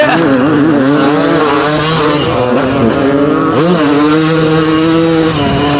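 Vintage motocross race with a Yamaha 250 YZ and Honda 500 CR motorcycles, engines loud and close, revving steadily with rising and falling pitch sweeps as the bikes accelerate and shift throughout.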